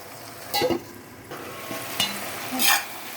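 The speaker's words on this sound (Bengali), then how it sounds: "শাকটা সিদ্ধ হয়ে গেছে, একটু ভাজা ভাজা হবে" Water spinach (kalmi saag) sizzles quietly in a pan, broken by several brief scraping stirs, with no speech.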